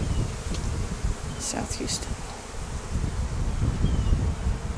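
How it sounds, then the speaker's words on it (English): Honey bees swarm around a hive at a small airport near a runway, a dense steady buzzing filling the air with faint wind noise and a brief spoken phrase partway through. "Very nice bees. They haven't even attacked much at all."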